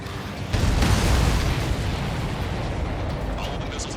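A missile launch and explosion in the jet combat game Ace Combat 7: a loud roaring burst swells after a brief lead-in, then settles into a sustained rushing rumble.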